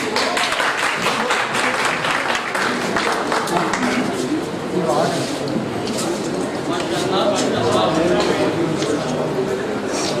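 A crowd at a mushaira poetry gathering applauds as a poet is introduced, loud, dense clapping that runs steadily for about ten seconds with a few voices rising over it.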